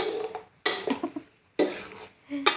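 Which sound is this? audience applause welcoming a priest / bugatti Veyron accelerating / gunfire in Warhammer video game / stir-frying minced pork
stir-frying minced pork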